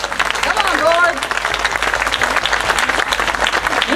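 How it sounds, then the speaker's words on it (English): A crowd at a San Diego Tartan Day gathering gives a steady, loud round of applause for the board, continuous clapping with some voices mixed in. "Let's encourage the board with a nice round of applause."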